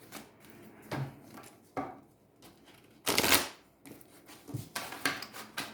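Oracle cards are shuffled by hand close up, making several separate bursts of papery riffling and slapping, with the loudest and longest flurry in the middle and quieter shuffles on either side.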